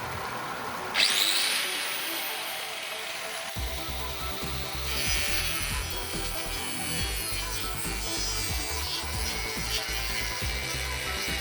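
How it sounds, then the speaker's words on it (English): An angle grinder spins up with a sharp whine on generator power, then keeps up a steady, loud abrasive roar with a continuous mechanical hum. "the angle grinder,"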